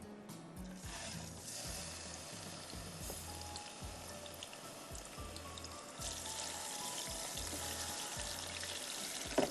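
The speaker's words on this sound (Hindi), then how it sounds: "1/4 कप तेल लेंगे और पहले मैं एक एक पीस चिकन उठा के मैं फ्राई करूँगी" Chicken pieces frying one by one in a quarter cup of oil, a steady close sizzle and crackle running throughout with a few soft clinks, no talk.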